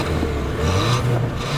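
A 2017 Ford Fiesta ST's 1.6-litre turbo engine running steadily with a throaty, meaty tone, close by, nothing else over it.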